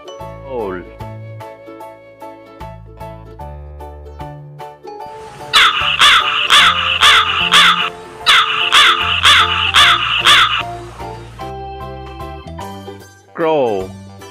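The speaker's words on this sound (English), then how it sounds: "Crow" A crow caws loudly in a rapid series of harsh, evenly spaced calls, two bursts of repeated caws set between stretches of soft background music.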